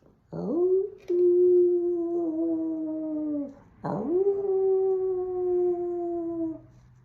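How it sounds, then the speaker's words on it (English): A long, wavering wolf howl rises and sustains, then fades, followed by a second drawn-out howl, carrying clearly against a quiet background. "In the distance, there was a howl of a wolf."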